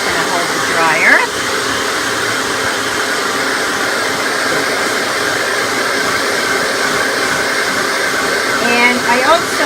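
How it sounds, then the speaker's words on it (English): A hair dryer blows steadily and close by while a Yorkie dog is dried after a bath, a constant broadband whoosh filling the whole stretch, with brief faint voices or squeaks near the start and end. "Daddy's going to hold the dryer."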